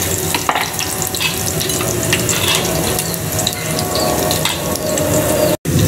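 Four cloves of chopped garlic and half a spoon of cumin crackle in hot oil in a saucepan: a loud, close, bubbling sizzle with scattered pops, cutting out for an instant near the end.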